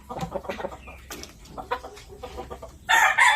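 A Japanese Shamo rooster of the Vasto Jutako Airwolf line clucks nearby in a farmyard, a run of short throaty clucks building to a loud burst of calling at the end.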